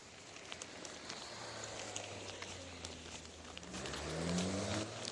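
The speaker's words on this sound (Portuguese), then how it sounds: "barulho de carro. É tipo poluição sonora, né?" Street traffic in Veneto, Italy, a faint steady hum of passing cars and motorcycles, with one engine growing louder and rising in pitch near the end.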